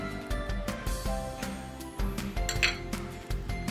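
A knife cuts square pieces of paneer on a plate, giving a run of close, sharp clinks and taps against the plate in a steady, uneven rhythm.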